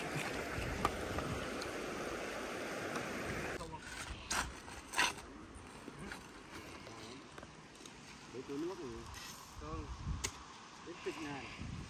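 Steady, close rushing of a rain-clouded stream in a Laos river valley, flowing continuously with a few brief knocks and faint bird-like chirps over the water.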